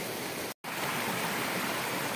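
Running water splashing and rushing steadily while someone washes their feet outdoors, a continuous close wash of noise broken by one brief gap.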